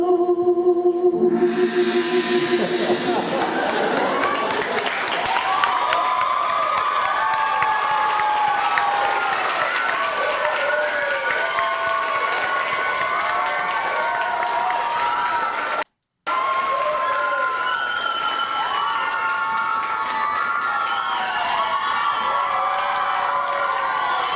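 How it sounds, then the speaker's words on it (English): An audience claps, cheers and whoops for a long stretch after off-key singing, the crowd noise dense and sustained with shouted voices mixed in and a brief cut near the end. "Why are you clapping?"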